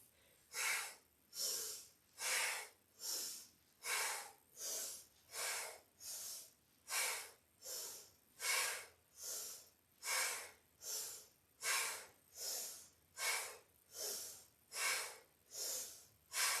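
Rhythmic breathing during yoga movement, with short, sharp, audible breaths repeating steadily about once per second, close and clear with no talking.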